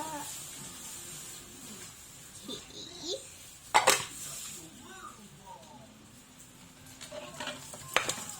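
A child scrubs and rinses dishes with soap, giving a steady wet hiss with occasional clinks and one sharper clatter, while people talk softly nearby.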